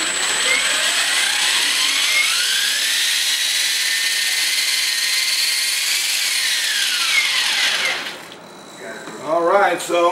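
A T-Rex 700 RC helicopter spools up with a whining tone that climbs in pitch, holds steady, then winds down. A voice briefly follows as the rotor noise fades.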